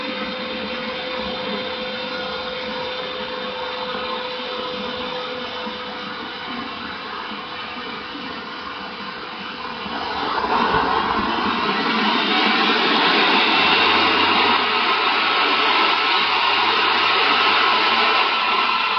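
A small engine spins a generator during an automatic battery charge test, a steady mechanical drone that throttles up about halfway through and then holds a louder, even roar, with no voices.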